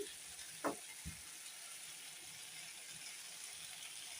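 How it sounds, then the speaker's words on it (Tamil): Capsicum fried rice sautéing in a pan after pepper powder is added, a steady soft sizzle throughout with a couple of brief scraping knocks near the start, no talking. "மிளகு பொடி சேர்த்து நல்லா வதக்கி விட்டுலாம்"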